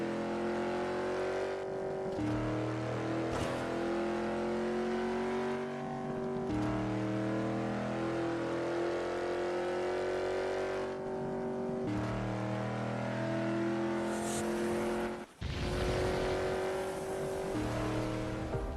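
Race car engine and tires in a mobile racing game, a continuous high revving drone that climbs and drops through gear shifts, loud and steady, with a brief dip and skid-like burst near the end.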